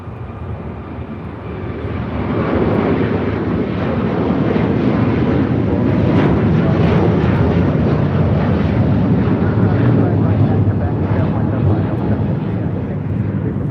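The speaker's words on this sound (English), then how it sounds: "This is Qatar Airways 740 taking off to Doha on the A350 1000." Qatar Airways Airbus A350-1000 departing runway 25 right at LAX for Doha, its engines building from a rumble into a sustained heavy roar that stays loud and close to the end, with wind noise mixed in.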